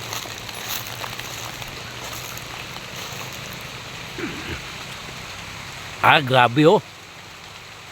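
Rain falling steadily at an outdoor fruit stall, a soft continuous patter and hiss throughout, with a brief loud spoken exclamation near the end.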